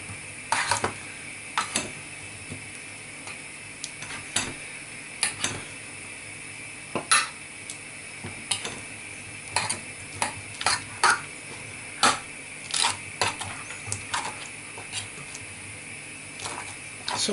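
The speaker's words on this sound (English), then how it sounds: "the idea is to coat the potatoes on all sides with the juices in the tin" A spoon scrapes and knocks against a metal roasting tin while potatoes are turned in the hot juices, a steady run of clinks and scrapes over a faint background hiss.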